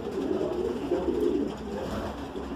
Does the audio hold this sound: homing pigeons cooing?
yes